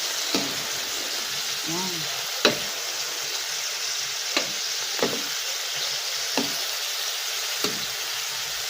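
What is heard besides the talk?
shrimp sautéing in a pan with bamboo shoots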